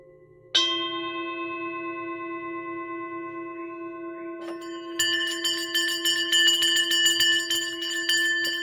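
A second-hand shop bell is struck close by, giving a bright sustained ring with long shimmering overtones that decays slowly, then is struck again and rings more densely toward the end.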